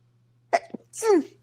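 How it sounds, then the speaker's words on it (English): A single sharp sneeze bursts out after a brief quiet, followed by a drawn-out, voiced exhale, close and fairly loud over a low steady hum. "Oh, I have to sneeze."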